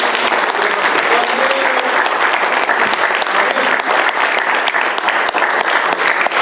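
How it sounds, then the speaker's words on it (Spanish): A church congregation at a Holy Week service claps loudly and steadily, a dense, close round of applause with sharp individual claps standing out and no talking over it. "démosle un buen aplauso a los hermanos"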